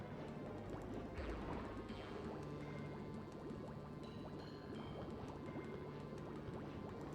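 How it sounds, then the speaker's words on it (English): In the Paper Mario video game, blocks pushed into lava bring a bubbling, gurgling liquid sound with scattered soft thuds, quiet and continuous under a layer of game music. "We're going to push them into the lava."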